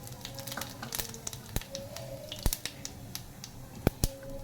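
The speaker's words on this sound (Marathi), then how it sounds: "जिरे आपले तडतडले." Cumin seeds splutter in hot oil in a kadhai for a red amaranth leaf stir-fry, giving a close, steady crackle broken by sharp irregular pops and a couple of loud snaps, with no talking.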